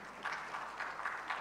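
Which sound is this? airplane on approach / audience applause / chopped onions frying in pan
audience applause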